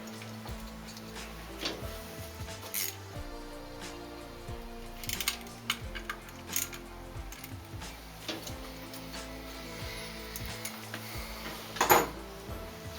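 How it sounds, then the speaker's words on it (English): Close, quiet ticks, clicks and ratcheting clatter of bolts being tightened on new Sure Fire coil packs on a Nissan N13 Pulsar Sunny's CA18DE engine, irregular metallic taps scattered through the scene, with a sharper rattle near the end. "Just bolt all these in, make sure they're all snug."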